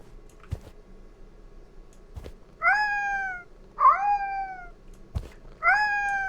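A hungry cat meows in the Order 13 video game: three separate drawn-out meows, clear and fairly loud, spaced over a few seconds, with faint clicks and a low background hum between them.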